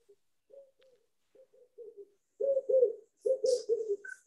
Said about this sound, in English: somebody has a bird nearby.